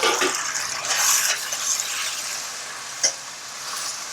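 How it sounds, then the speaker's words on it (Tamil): Drumstick pieces and vegetables sautéing in hot oil for a hotel-style tamarind kuzhambu, a steady broadband sizzle with stirring scrapes and a brief clack near the end, no talking. "இப்போ புளிக்குழம்புல வந்து காயெல்லாம் நான் வதக்குவேன்."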